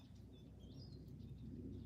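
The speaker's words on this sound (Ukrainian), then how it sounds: "Класно співають пташки." Faint birdsong in a forest with a few thin chirps and whistles over a steady low rumble of outdoor ambience.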